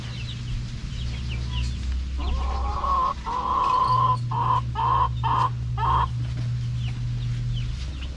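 Chickens in a coop on a mini farm cluck and cackle in a close burst of repeated calls through the middle, over a steady low hum, with quieter rustling before and after.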